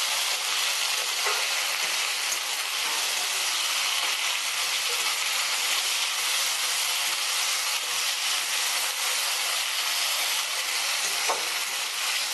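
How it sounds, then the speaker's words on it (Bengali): A ginger, garlic, onion and green chili paste sautés in a pan with a constant close hiss and sizzle, punctuated by faint stirring scrapes. "আদা রসুন পেঁয়াজ ভালো করে কষিয়ে নিচ্ছি।"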